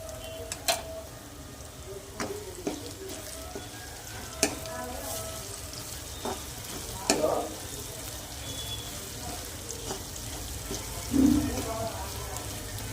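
Sliced onions sizzle steadily in a pan on a home stove, a soft continuous frying hiss with occasional clinks of a stirring utensil and a voice speaking now and then.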